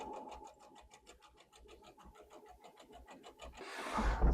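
A sewing machine stitches a pocket closed on a flower tote bag, running a rapid, even train of needle clicks up close, then a louder rush of noise at the end.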